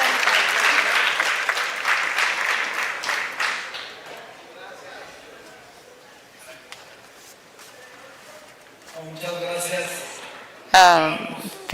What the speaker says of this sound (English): a round of applause for Carlos Martinez Velázquez